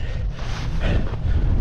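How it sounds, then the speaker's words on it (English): Strong, steady wind buffets the microphone at outdoor mountain-bike jumps in Sandwell Valley, a loud, continuous low roar with no voices. "Shame about that wind."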